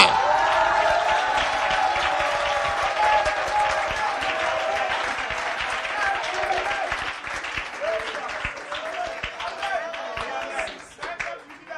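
A church congregation at a joyful service bursts into sustained applause mixed with cheering, a dense, steady wash of clapping that holds for several seconds before gradually thinning toward the end, with voices blended into the crowd noise.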